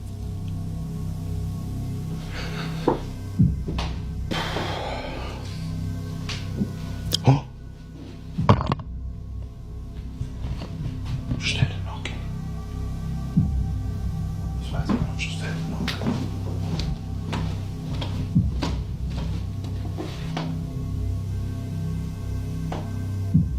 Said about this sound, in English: Unexplained knocking began echoing through the house.